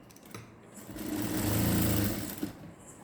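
A sewing machine runs a long stitch across the shoulder of a readymade garment, whirring up to a steady, rapid, close mechanical hum for about a second and a half before slowing to a stop.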